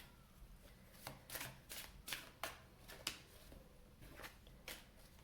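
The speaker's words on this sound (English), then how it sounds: "I was just shuffling." Rider Waite tarot cards being shuffled, a quiet run of crisp riffles and taps repeating at an uneven rhythm close by, with no talking.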